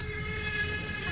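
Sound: CN freight train going backwards

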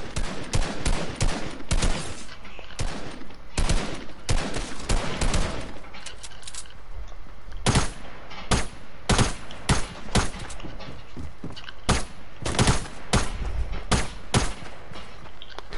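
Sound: gunfire in a building video game battle

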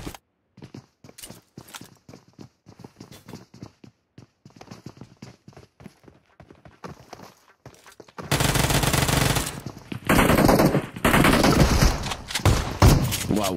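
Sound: gunshots in PUBG Mobile, a video game

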